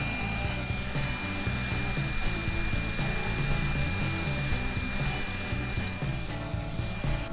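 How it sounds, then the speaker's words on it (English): A compact 3020 PRO Ultra CNC router cutting a test part from cherry wood, a steady high whine from the spindle with rhythmic grinding and rubbing as the bit moves, continuous and fairly quiet with no talking. "the CNC just got done cutting a test part out of some cherry"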